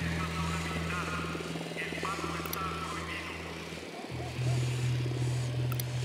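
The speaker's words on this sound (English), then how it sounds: "Drone is airborne." A drone hovers with a steady buzzing whir during a Ghost Recon Wildlands mission, holding at a fairly constant level and briefly dropping out before resuming louder, with game sounds around it.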